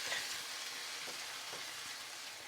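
Meat and herbs fry in a pan over medium heat for pork with mango and habanero sauce, a faint steady sizzle with a few soft stirring scrapes, quiet and close, no talk.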